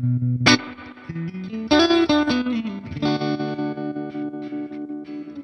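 Electric guitar playing sustained chords and notes through a Fender '65 Twin Reverb tube combo amp, swimming in tube-driven spring reverb with a pulsing vibrato wobble, no voices.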